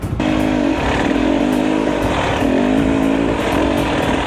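A motorcycle engine revs on a rough trail at Pinatubo, its loud, close drone rising and falling in steady surges with rattling, gritty noise underneath.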